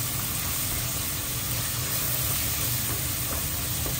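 Vegetables sauté in a hot pan while black pepper is added, giving a steady, loud, unbroken sizzle and hiss throughout, close by and with no talking.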